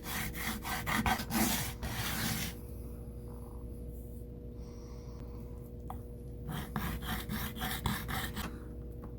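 Material being sanded flat on a coarse-grit sandpaper sheet for a small homemade profile gauge: rapid, close rasping strokes in a burst, a quieter pause, then another run of scraping strokes.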